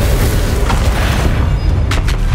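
A Confringo blasting spell explodes during the Ranrock boss fight in the video game Hogwarts Legacy: a loud, dense booming roar that fills the whole moment, with crackling debris toward the end.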